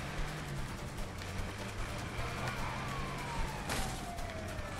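A faint wailing police siren in the video game A Way Out rises and falls over a low engine drone, with a sharp electronic sweep partway through; no one speaks.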